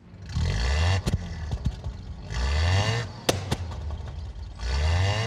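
A car engine starting and revving: three loud surges of engine roar rise and fade in turn, with sharp clanks and clatter in the gaps between them and no voices.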